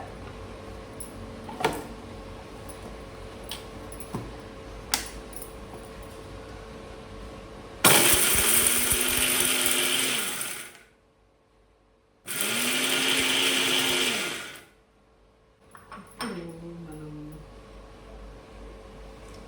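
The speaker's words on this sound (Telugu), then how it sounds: "ఇప్పుడు మనం దీన్ని మిక్సీకి వేసేసుకోవాలండి." A kitchen mixer grinder whirs loudly in two bursts of a few seconds each, grinding ridge gourd peel chutney with tamarind and salt, separated by a short silence and followed by a brief restart.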